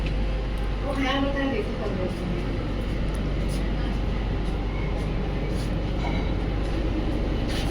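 Heard from inside a glass-backed carriage of a train bound for Chikkamagaluru, a steady low rumble runs throughout, with a person talking over it for part of the time.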